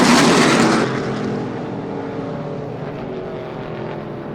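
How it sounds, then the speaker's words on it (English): A limited late model race car blasts down the backstretch at Kalamazoo Speedway, its engine a loud, close roar that eases into a steady fading drone as it heads for the turns. "Jerry Osterhaus rips that machine down the backstretch into turns 3 and 4"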